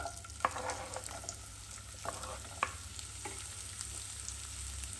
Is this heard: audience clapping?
no